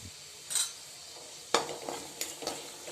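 Chilli and garlic being sautéed in a pan, quiet background sizzle broken by a few sharp scraping stirs and spoon clinks against the pan, close but soft.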